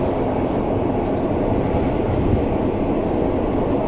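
A Polish second-class train runs on the line from Gdansk to Krakow, heard from inside the carriage as a steady, loud, broadband rumble and roar with faint rail clatter. It holds even throughout, with no talk.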